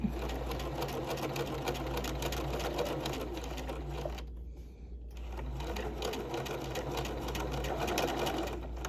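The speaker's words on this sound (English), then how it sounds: "I'm gonna stitch over that zipper tape." A sewing machine stitches over zipper tape, its rapid needle chatter running steadily and close by, with one brief pause midway before it resumes.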